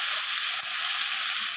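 Marinated Lotia fish fries in spiced oil in a pan, giving a steady, bright hiss of sizzling that stays even throughout, close and unbroken.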